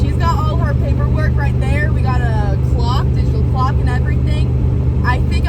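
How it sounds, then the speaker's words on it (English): Cars passing a moving Corvette on the highway at about 50 mph, a constant loud road and engine drone under continuous talking. "We have cars passing us constantly"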